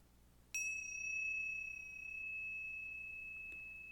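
A small bowl or chime is struck once during a church service, giving a clear, pure ring that sustains for several seconds and fades slowly in a quiet room, with a faint tap near the end.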